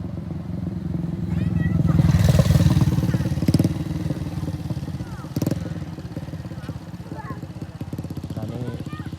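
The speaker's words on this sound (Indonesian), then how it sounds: "Ini ada satu motor ya." A motorcycle engine passes along a flood-damaged road in Aceh, rising to a peak then fading, with clattering thumps and a voice talking over it.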